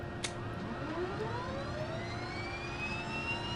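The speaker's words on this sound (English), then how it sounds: "we're good to go ahead and start up the right engine" Right engine of a DHC-6-300 Twin Otter spooling up in the FSX flight simulator, a steady turbine whine with tones sliding upward over a constant hum, moderately loud and without talk.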